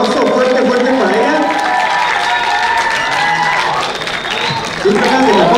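A crowd at a rap songwriting contest applauds and cheers for a contestant, a steady dense wash of clapping and voices that holds for several seconds, with a shout or talk rising near the end.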